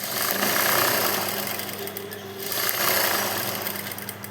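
A sewing machine runs steadily through a continuous stitching pass, a loud mechanical whirring hum with rhythmic needle chatter that eases slightly midway before picking up again, with no talk over it.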